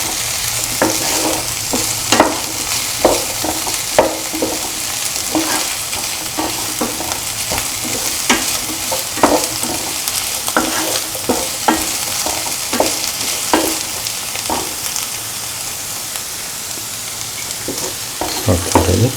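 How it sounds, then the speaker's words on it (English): Beans sautéed with other ingredients in a pan, giving a steady sizzle throughout while a utensil scrapes and stirs in frequent irregular strokes, close and fairly loud, with no talking. "Saute and mix the beans with the rest of the ingredients."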